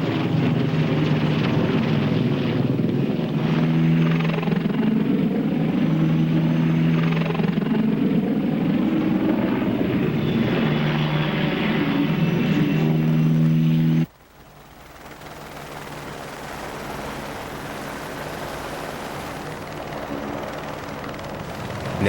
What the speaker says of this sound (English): Nap of the Earth flying allows attack helicopters to literally sneak up on the enemy.